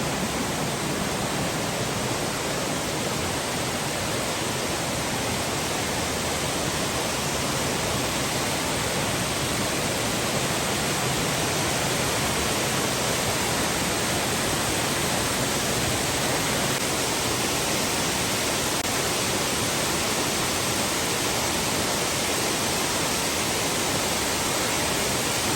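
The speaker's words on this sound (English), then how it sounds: "it looks really good with the rain swelling the creek" A rain-swollen creek and waterfall on a forest trail send up a constant, full hiss and roar at close range, dense and unbroken for the whole stretch, with no talking.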